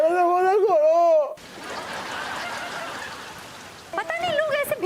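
Steady rain falling outdoors, a soft even hiss in the middle stretch, with people's voices before and after it.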